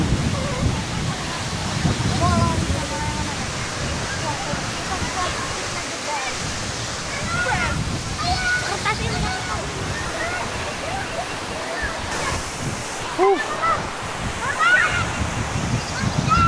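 Curug Bidadari waterfall in Sentul roars as a constant broadband rush of falling water, loud and enveloping, with people talking faintly over it.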